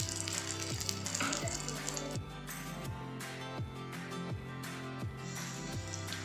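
Banana appam pancakes gently sizzling in ghee in a paniyaram pan, a soft steady fry under repeated musical notes, with no talk.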